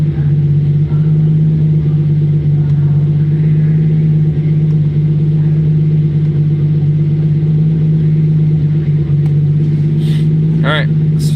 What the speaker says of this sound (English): I don't know if you guys have heard this car, but it sounds so good.